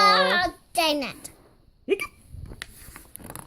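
A reader's voice imitates a little penguin's hiccup in a children's story reading, giving sharp high squeaky vocal bursts separated by pauses, close and clear.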